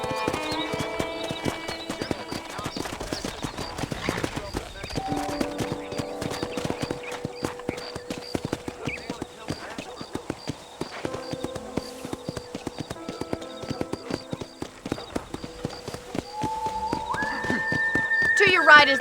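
Rhythmic horse hooves clip-clop steadily at a walking pace over a musical background, with a short whinny and someone talking briefly, in the video game Red Dead Redemption.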